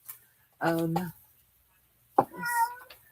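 Domestic cat meowing indoors, two distinct close meows separated by a short pause, the second rising and more drawn out.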